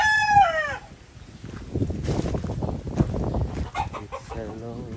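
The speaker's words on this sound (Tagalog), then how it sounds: "Yan na yung mga Brahma natin ng manok." A Brahma rooster on a farm in Pagudpud, Ilocos Norte crows once, loud and close, then people talk over faint background calls from the other birds.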